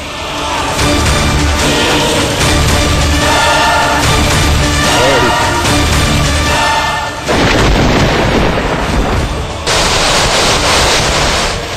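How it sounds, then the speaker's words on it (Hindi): Heavy thunderstorm during a severe regional storm with flooding, a steady roar of wind and rain broken by loud, booming thunder-like crashes, near and dense throughout. "महातूफान ने पूरे प्रदेश को हिलाकर रख दिया है"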